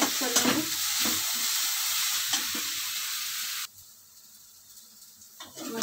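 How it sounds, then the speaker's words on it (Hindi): Ground spices (cumin powder, turmeric and red chilli powder) fry in a pan for dhaba-style aloo gobi, giving a steady close-up sizzle with stirring scrapes that cuts off abruptly partway through, leaving a faint hiss. "मसाले को अच्छे से फ्राई कर लेंगे दो मिनट तक।"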